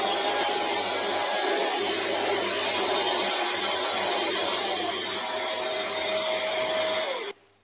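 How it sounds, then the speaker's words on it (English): A Shark Detect Pro IW3611 stick vacuum sits in its base and auto-empties, giving a loud, steady motorized roar with a whining tone that holds for about seven seconds and then cuts off abruptly. "When I position the stick vacuum on its base, it will automatically empty the dirt."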